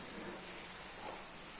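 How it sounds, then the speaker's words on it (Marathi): Rain falling outside a window in a Konkan village, a faint, even hiss of steady rainfall heard from indoors for a brief moment. "मस्त बाहेर पाऊस पडतोय."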